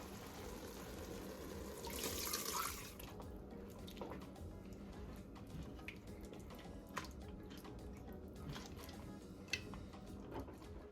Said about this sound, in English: from that same bowl that the meat was marinating in, I went in with some hot water.